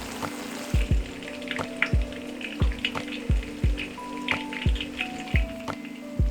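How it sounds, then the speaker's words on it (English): Scallions and shallots frying gently in oil over low heat give a steady soft sizzle, broken by regular low thuds and clinks about every half second, maybe stirring or tapping, with no talk. "Fry scallions and shallots on a low heat until the oil is completely infused with their flavors"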